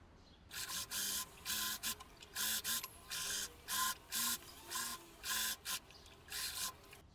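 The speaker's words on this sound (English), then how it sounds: "And I sew on the sides." A sewing machine stitches the side seams of a spaghetti-strap summer slip dress, with the lining and shell layered right sides together. Short runs of motor whir repeat in a steady rhythm, broken by brief stops.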